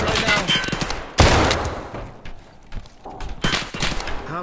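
Shotgun blasts in an online arena shooter, with a sharp loud burst near the middle and further gunfire and scuffle around it, under voices on team chat.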